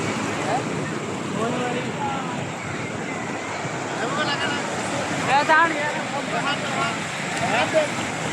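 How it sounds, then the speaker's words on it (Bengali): Big sea waves roll in at Cox's Bazar beach, a continuous close roar of surf mixed with wind buffeting, with faint voices over it. "এই যে কত বড় বড় ঢেউ"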